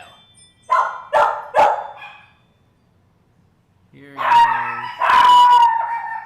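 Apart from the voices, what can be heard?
dogs barking and howling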